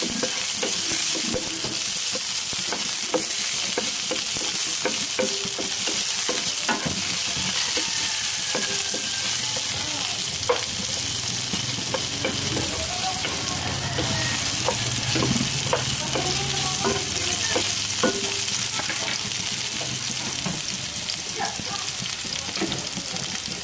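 Onions fry with a constant, close sizzle in a pan while cooking bihon with sardines, broken by occasional stirring scrapes and utensil knocks, with faint talk briefly in the background.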